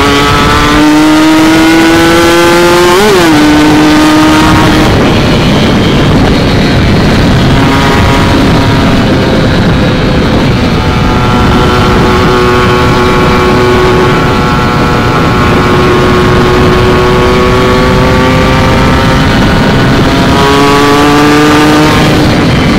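A motorcycle engine fitted with a TM 34 carburettor revs hard and continuously, its pitch climbing and dropping through repeated throttle blips and sustained high-rev pulls, loud and close with no talking.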